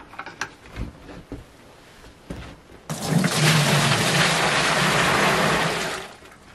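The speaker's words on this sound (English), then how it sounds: "Then we add our hot water." Hot water gushes steadily into a container of shaved soap for a few seconds, a broad rushing pour that starts abruptly after some quiet clatter and fades at the end.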